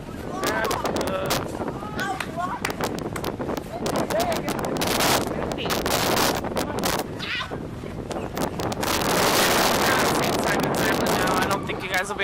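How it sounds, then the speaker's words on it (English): Strong wind buffets a handheld microphone at a beach, a loud, continuous roar with gusts that swell toward the end, while people talk faintly beneath it. "I don't think you guys will be able to hear me at all because of the wind"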